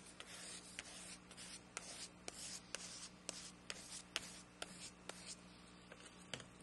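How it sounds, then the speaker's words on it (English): Collage paper on a robot artwork is scraped with repeated short, crisp strokes at a steady rhythm, close but quiet, with no talking. "let's scrape it first"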